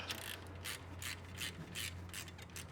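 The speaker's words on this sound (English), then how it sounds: "Okay, and we're going to tighten up here the pivot bolt." A ratchet wrench tightens the pivot bolt on a Subaru drive belt tensioner, giving repeated rapid clicking bursts in an even rhythm, close but fairly quiet, with no speech.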